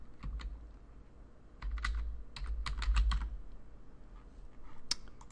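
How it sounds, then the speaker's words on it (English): Typing on a computer keyboard while entering a password into a sign-up form: bursts of close, crisp key clicks in quick irregular runs, with short pauses between groups. "I'm going to go ahead and type in a password that I'm going to use for this account"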